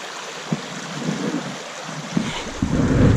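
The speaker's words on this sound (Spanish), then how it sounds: "hemos parado a ver este arroyo o río, que no indica qué río ni qué o qué arroyo es, pero me ha gustado sobre todo su sonido" Water from a stream flows under a bridge at Turienzo de los Caballeros in León, heard as a steady broadband rush with wind buffeting the microphone and a few soft thumps, no voices present.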